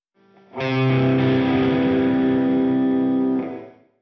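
Electric guitar through an amp simulator plugin with delay and reverb, a single sustained distorted chord ringing out for about three seconds and then fading away. No one talks over it.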